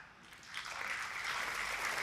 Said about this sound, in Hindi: आज तो आपने ताली बजाई